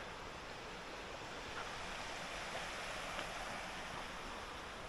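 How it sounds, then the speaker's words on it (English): Running water from a hillside stream flowing down beside a road makes a steady, even rushing hiss that stays constant and fairly distant, with no voices over it. "More running water down there, flowing off the hills"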